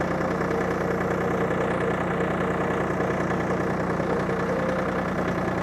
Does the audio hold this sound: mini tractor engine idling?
yes